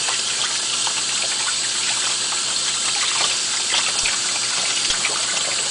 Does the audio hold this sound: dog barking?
no